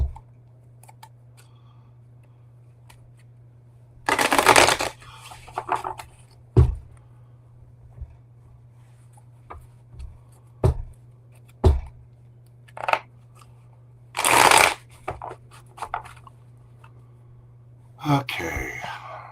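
Tarot cards being shuffled by hand, several short bursts of riffling and card rustling spaced through a quiet room over a low steady hum, with occasional soft clicks between.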